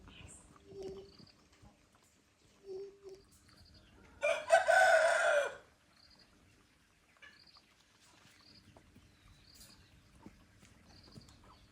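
Backyard hens give a couple of short, quiet clucks, followed by a louder, sustained crow-like call, then faint scattered bird sounds against a quiet farm background.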